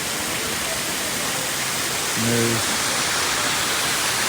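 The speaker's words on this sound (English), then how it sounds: "waterfall from above." A large indoor waterfall in the Gaylord Opryland Hotel atrium roars in a steady, dense wash of falling water, with a brief voice speaking over it.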